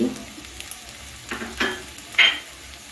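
Sabudana khichdi with grated coconut, peanuts and coriander leaves being stirred and cooked in a pan, a low sizzle broken by a few short scraping strokes and one sharper clink near the end.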